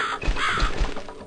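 Crow cawing in the video game The Cat Lady, three harsh caws in a quick rhythm, fairly close and clear against a low ambient drone.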